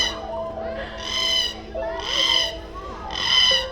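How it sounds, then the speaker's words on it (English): Parrots at a zoo free-flight bird show give three loud, harsh bursts of calling about a second apart, each a noisy screech rising and falling, over a steady background murmur. "Parrots get a bad reputation for being pretty messy and for being pretty loud."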